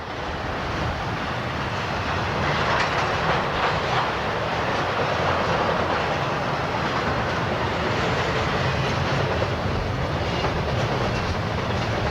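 A Norfolk Southern intermodal freight, train 219, rolls by with double-stack containers, a loud steady roar of wheels and clickety-clack on the rails.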